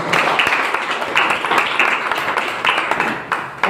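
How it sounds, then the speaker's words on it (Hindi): An audience at a wellness company's venue program in Ghazipur breaks into hearty applause, a loud, continuous patter of many hands with sharper individual claps standing out, and no one speaking over it. "जोरदार ताली से सबके सम्मान में जोरदार ताली हो जाए"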